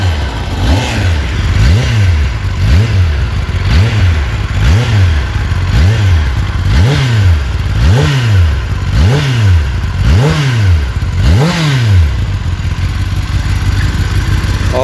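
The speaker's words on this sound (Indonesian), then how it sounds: "ini adalah suara Ninja ZX10R yang menggunakan knalpot standar" A new Kawasaki Ninja ZX-10R sport motorcycle on its stock exhaust is revved repeatedly after warming up, the engine rising and falling in about nine loud, close, evenly spaced blips over a steady idle.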